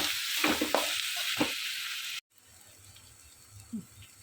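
Grated raw mango with onions and salt frying in a pan, close sizzling with a few stirring scrapes before cutting off abruptly; a faint, quiet crackle continues afterward.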